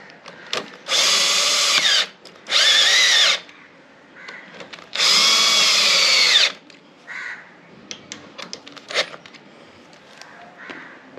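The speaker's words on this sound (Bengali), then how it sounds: "এবার বোল্টগুলোকে আমি টাইট করে দেবো।" An electric drill or driver tightens bolts while a switch bar is installed on a Bajaj Pulsar NS200, with three loud whirring bursts of one to two seconds each, then scattered small clicks and handling noises.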